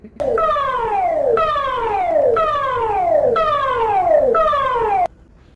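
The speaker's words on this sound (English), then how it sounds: "It is one of the Singapore Civil Defence Force public warning sirens." A loud Singapore Civil Defence Force public warning siren wails in repeated rising-and-falling sweeps, about five cycles, then cuts off abruptly into near silence.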